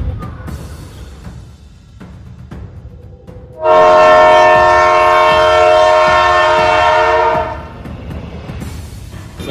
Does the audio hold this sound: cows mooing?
no